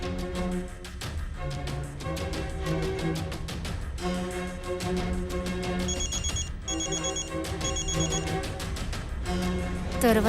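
A telephone rings in a repeating, tonal ringtone pattern. It plays continuously over a dense musical backdrop, with occasional voices underneath.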